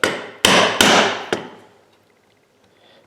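A hammer strikes a chisel set on a scored line in wood while cutting dovetail joints for drawers, three sharp close blows and a fainter fourth, each ringing off before quiet.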